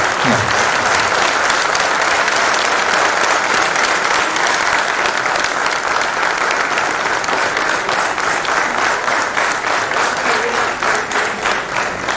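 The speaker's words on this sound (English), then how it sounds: "please stand up and give a wide round of applause to him" A standing audience at a university department's platinum jubilee celebration gives a long, loud round of applause, a dense and sustained wash of clapping close to the listener with no pause.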